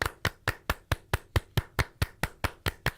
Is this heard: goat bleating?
no